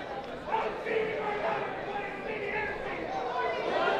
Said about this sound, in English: very spirited crowd here at Marion